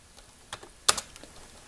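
Light typing on a computer keyboard, a few soft scattered keystrokes with one louder clack in the middle, quiet and close with no talking.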